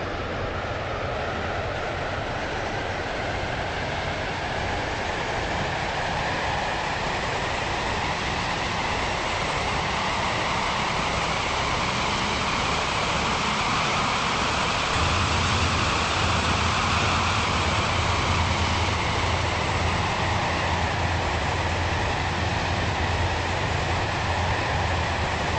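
Stepford Connect train running in the Roblox game SCR, crossing St Helens Bridge on the Connect Line toward Port Benton: a steady, continuous rolling rumble and hum that stays loud throughout, deepening slightly partway through.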